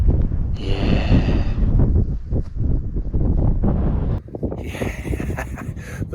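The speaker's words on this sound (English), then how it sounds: "It is a bit windy." Strong wind on a hilltop in the Malvern Hills at dusk buffets the microphone in heavy, rumbling gusts, loud and close, with a brief lull before gusting again.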